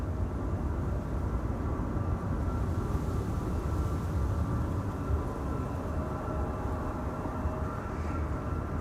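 A KLM airliner at Amsterdam Schiphol Airport rumbles steadily throughout, a constant low roar that holds level without building or fading, with no voices over it.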